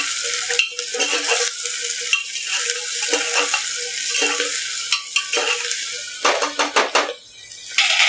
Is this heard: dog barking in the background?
no